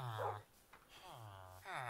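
A dog in a video game whimpers and growls in short, close whining bursts, with a quieter gap in the middle.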